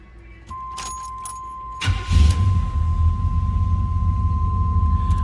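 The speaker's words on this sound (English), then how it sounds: "Let's go ahead and fire this up." A 1987 Chevrolet Monte Carlo SS cranks at about two seconds and settles into a steady, close, low engine idle, following a few clicks and key jingles, with no talking.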